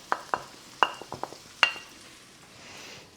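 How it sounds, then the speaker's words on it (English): Onions, garlic and mushrooms being stirred in a frying pan, a series of sharp scrapes and clicks of a utensil against the pan over a faint sizzle, with a louder clatter at the end. "So I'm just going to fry the onions, the garlic and the mushrooms in there."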